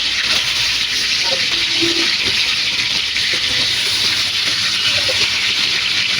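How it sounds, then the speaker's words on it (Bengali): Hilsa fish pieces shallow-frying gently in oil in a pan, giving a steady, loud, dense sizzling hiss that runs unbroken throughout with no voices. "মাছের একটা ভাজা হয়ে গেছে, এবার মাছগুলোকে আমি উল্টিয়ে দিব।"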